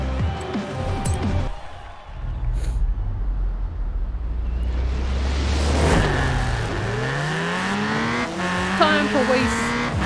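A Ford Racing Puma rally car in Forza Horizon 4, its engine revving hard through gear changes with rising and falling pitch, tires squealing through corners, and someone talking over the loud, continuous racing sound.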